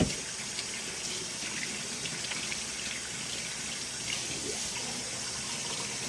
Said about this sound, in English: Let's rinse this stuff off.